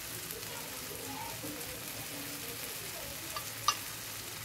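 Onions sautéed in a pan with water and a little salt give a faint, even hiss and bubble, with light stirring and one small clink near the end and no talking.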